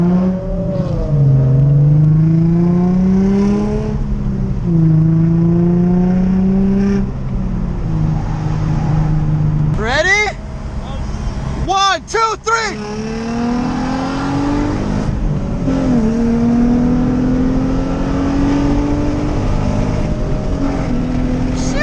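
An Infiniti G35 accelerates on a cruise beside an Alfa Romeo, its engine climbing through gears with rising revs and shift breaks, then a sharp burst of high revving and another long pull, loud and close from inside.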